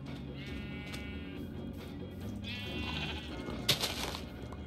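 Sheep in a video game bleat several times in a row, soft and fairly faint over a steady low background, with a brief sharp click near the end.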